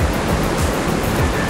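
Sea waves wash loudly and continuously over a rocky, pebbly beach at Playa Punta Cerritos in Mazatlán, Sinaloa, a dense roar of surf with rhythmic surges and no voices.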